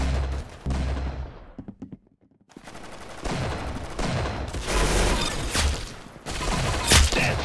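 Rapid bursts of automatic gunfire in the online shooter game Arsenal, loud and dense, with a brief lull before sustained overlapping shots resume.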